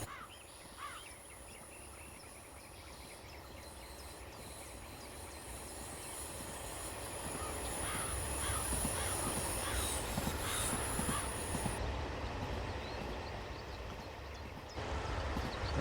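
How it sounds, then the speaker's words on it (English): Grinding, rumbling train running noise in Train Sim World on the Hidaka Main Line in Japan, a continuous low roar that builds steadily louder over the stretch, with faint high squealing above it. "There's that "you're tearing my gearbox apart" noises again."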